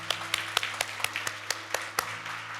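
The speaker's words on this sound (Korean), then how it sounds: "우리 하나님께 감사와 영광의 박수를 드리겠습니다." A church congregation claps in praise during a Sunday service, a short burst of about a dozen distinct, fairly even claps over a low steady hum of the room.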